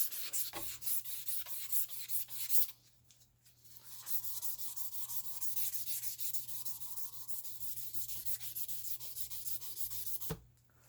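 Quiet, rhythmic rubbing strokes of 1500-grit sandpaper wet-sanding a Taurus G3 pistol barrel with penetrant, a soft repeated rasp with brief pauses, close and steady.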